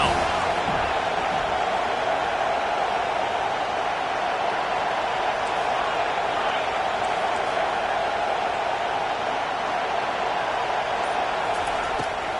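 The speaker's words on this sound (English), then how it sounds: "Decibels rising as the crowd gets behind this defense on third down." A stadium crowd roars on third down in a football video game, a dense, constant din holding loud and level throughout, with commentary voices apparently underneath.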